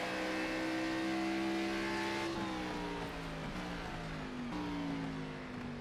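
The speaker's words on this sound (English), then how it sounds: "we'll just let you listen to the wonderful sound of this car as we come down the backstretch at Charlotte" A race car drives down the backstretch of the Charlotte Roval. The engine holds a loud, close, high-revving drone, then drops pitch briefly between gear shifts and climbs again, with no voices over it.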